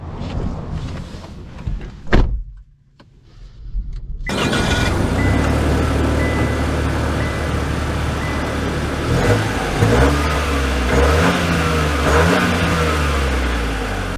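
A 2024 Chevy Trailblazer RS starts out quiet with a brief thump, then settles into a steady engine drone and road rumble as it drives, loud and continuous with no talking.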